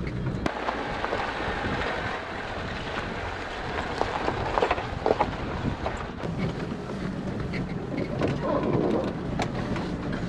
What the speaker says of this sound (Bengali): এই ঝিরিঝিরি বৃষ্টির মাঝে আমাদের জিপটি চলছে ঝিনের উদ্দেশ্যে